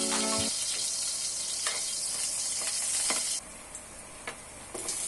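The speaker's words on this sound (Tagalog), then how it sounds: "Gisayin ng bawang." Garlic sizzles in hot oil in a wok, a steady bright frying hiss with a few scraping stirs, loud and close, easing slightly near the end.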